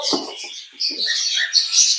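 Small pet birds chirp and tweet in quick, high bursts from close by in a nest box, a few short calls running into a busier chatter.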